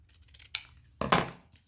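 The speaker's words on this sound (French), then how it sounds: "On va prendre des ciseaux directs." Scissors cut through paper for a scrapbook photo album, two quick crisp snips close up with no talking.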